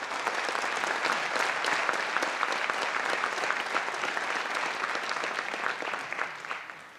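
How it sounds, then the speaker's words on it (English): An audience at a town meeting in Abington gives a steady round of applause for community volunteers, dense continuous clapping from a roomful of people that holds for about seven seconds before tapering off. "please join me in a round of applause for everybody who volunteers for this community"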